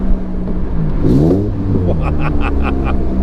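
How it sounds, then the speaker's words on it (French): A Morgan Plus 4 sports car revs hard between two stone walls, its exhaust climbing and falling in loud close surges with crackling pops, while someone talks over the engine. "Je peux vous dire qu'on apprécie la ligne d'échappement."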